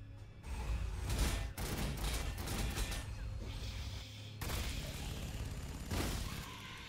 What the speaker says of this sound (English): Just shoot into the soul grinder.